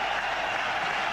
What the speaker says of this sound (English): Tremendous ovation here from the crowd.